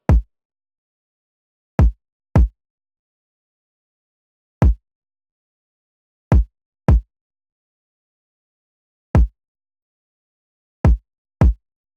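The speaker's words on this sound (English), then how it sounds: "We'll start with the kick drum, which sounds like this, soloed." A soloed hip-hop kick drum from a beat, two layered kicks sounding as nine deep, punchy thumps in a sparse, syncopated pattern with silence between hits.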